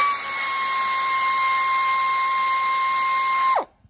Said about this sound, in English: air tools make the job go a lot faster